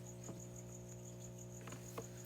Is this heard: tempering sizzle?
no